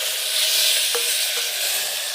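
Spices and chili hit hot oil for a Gujarati vaghar tempering while pasta is being made, giving a steady loud sizzle and crackle with a couple of faint stirring clicks.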